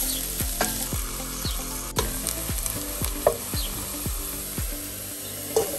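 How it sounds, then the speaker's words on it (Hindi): Sliced onions fry in about four tablespoons of oil for Kabuli pulao, with a steady sizzle broken by a regular series of scraping strokes as a spatula stirs them, close and clear. "प्याज हमने भून लेना अच्छी तरह से"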